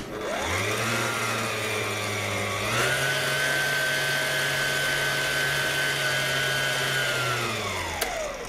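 An electric hand mixer whirs through walnut cake batter, a continuous close motor drone that rises in pitch partway through as the speed steps up, then winds down at the end, with no one talking.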